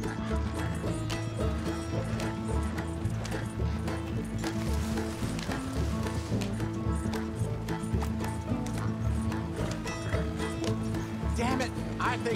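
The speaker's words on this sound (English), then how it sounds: "Slow down, you'll burn out the horses." Horses gallop in Red Dead Redemption 2, a continuous dense clatter of hooves with a wagon rattling along, heard under people talking and a music score throughout.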